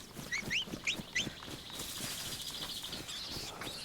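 A bird in the video game DayZ gives four quick rising whistled chirps in the first second, fairly faint over a low outdoor ambience, followed by a thin sustained high tone.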